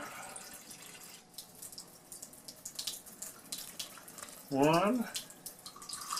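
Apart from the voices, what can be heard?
water being added to pancake batter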